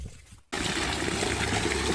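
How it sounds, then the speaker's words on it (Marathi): A water pump suddenly starts and runs, watering plants and filling a tank. A loud, close, continuous rush of water follows a brief quiet moment. "यंत्र चालू आहे इकडं झाडांना पाणी देण्याचं काम."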